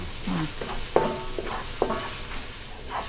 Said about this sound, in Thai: ผัดเครื่องแกงนะคะ ผัดไฟปานกลางนะคะ